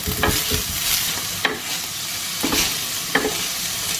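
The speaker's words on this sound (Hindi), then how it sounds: "इसको हम जब तक ये रेड नहीं हो जाता अच्छी तरह फ्राई कर लेंगे" Fresh mutton pieces fry on a hot tawa for a fried gosht dish, giving a steady close sizzle broken by several sharp scrapes and clatters as the meat is stirred.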